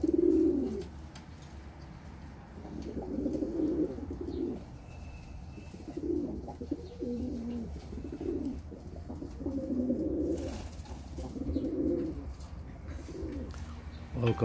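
Pet pigeons let outdoors for the first time coo in repeated soft, rolling phrases, close by and spaced a second or two apart over fourteen seconds, with faint background noise.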